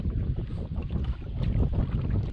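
Wind gusting across a lake on a solo canoe trip, a steady broad roar with buffeting low rumble on the microphone, continuous and fairly loud with no talk.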